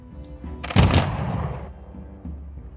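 A single heavy artillery blast from an industrial-era unit in the strategy game Humankind, a sharp near boom that rolls off into a fading rumble over a low musical drone.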